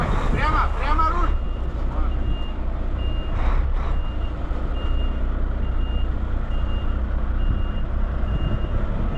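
A Volvo FH 540 truck reverses onto a ferry, its reversing beeper pulsing at a steady even rhythm over a loud idling diesel rumble, while someone speaks briefly near the start.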